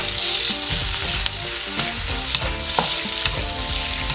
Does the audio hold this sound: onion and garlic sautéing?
yes